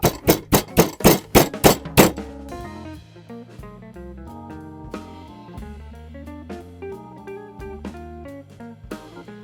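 About eight sharp, rapid pounding thuds from a meat mallet beating meat in the first two seconds, then music takes over for the rest.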